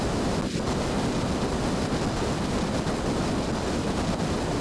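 Rocket engines burning steadily during a launch in Kerbal Space Program, a dense continuous roar with a broad rushing hiss that holds at an even, loud level throughout, with no voices.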